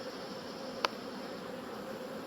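Honeybees robbing at a hive give a faint, steady insect buzz, with one brief louder bee passing close.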